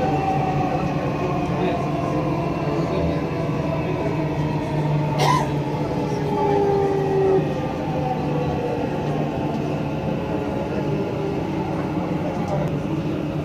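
A Dubai Metro train runs between stations, a steady loud rumble with humming tones and brief squeals, heard from inside the carriage throughout.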